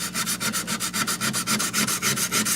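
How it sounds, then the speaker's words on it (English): Steady back-and-forth scraping of abrasive on a chef knife's metal blade, hand sanding with a rhythmic rubbing stroke repeated about four times a second, close and continuous with no talking. "Just sanding away on a chef knife here."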